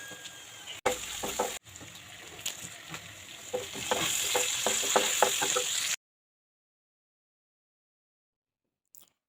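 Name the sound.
meat frying in a pan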